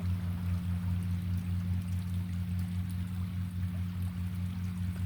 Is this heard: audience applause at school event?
no